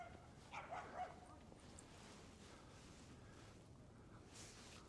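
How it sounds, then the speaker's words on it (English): Dogs bark and yip while playing at a distance in an off-leash dog park in Edmonton, a few scattered barks that are quiet and sporadic over an outdoor background. "there's some dogs playing, having fun."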